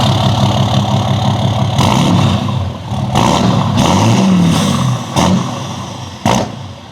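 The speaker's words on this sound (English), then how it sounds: "I'll start it up for you guys, and then I'll give some revs, let you guys hear it" RAM 2500 Cummins diesel truck with a deleted system and a 4-inch straight exhaust, idling loud and close with several sharp revs blipping up and falling back.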